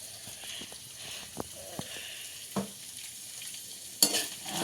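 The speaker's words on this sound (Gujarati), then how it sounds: "1 ચમચી જેટલું મીઠું નાખીને આપણે હલાવી લઈએ" A spoon stirs salted chevdo snack mix in a pan, giving scattered scraping and rattling clicks with a brief louder clatter near the end, under a faint background hiss.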